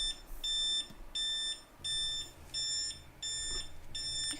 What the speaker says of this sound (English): You guys hear that beeping?